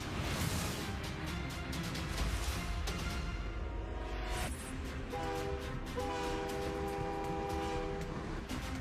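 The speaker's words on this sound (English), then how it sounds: "The Bear told me to get on the train." A train rolls past loudly and close, a steady rumbling roar with a sustained horn tone entering partway through, no speech.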